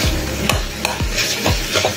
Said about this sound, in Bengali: ঠিক এরকম সময় সেদ্ধ করে রাখা মটর এবং আলু দিয়ে দেবো কিমার সাথে।